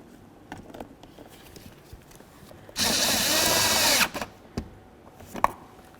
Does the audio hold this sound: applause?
no